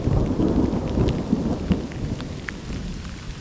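Mountain thunderstorm with steady heavy rain and low rolling thunder, loud and close at first, then easing into a softer downpour with scattered drops striking nearby surfaces.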